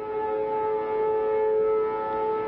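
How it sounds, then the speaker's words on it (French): Memorial sirens sounding across Israel on Holocaust Remembrance Day: a loud, steady, unbroken civil-defence wail holding a single pitch throughout, with no voices. "les sirènes ont retenti à travers Israël et toute vie s'est tout à coup arrêtée"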